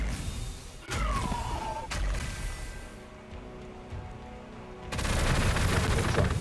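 Automated base defences open fire in the strategy game Gladius: Relics of War, sharp bursts of gunfire cracking out amid a busy battle soundscape, loud and close, with a heavier volley swelling near the end.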